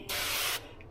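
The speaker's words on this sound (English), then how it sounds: "Okay, so I got my avocado oil, just regular old spray." Avocado oil sprays from a spray bottle onto a pellet smoker being re-seasoned, a single close, loud hiss lasting about half a second.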